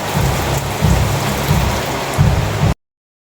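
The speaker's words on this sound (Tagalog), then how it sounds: "Malakas po ang ulan." Heavy rain pours down in a steady, dense wash with brief surges of intensity, loud and close throughout before cutting off abruptly near the end; no voices.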